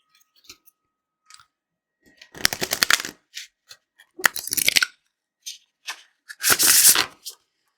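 A deck of 48 thick, flexible black-core oracle cards is riffle shuffled, giving several separate bursts of crisp, close fluttering clicks with short quiet gaps between them.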